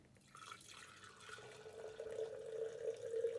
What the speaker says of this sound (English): So what we do simply is we just pour it into a container like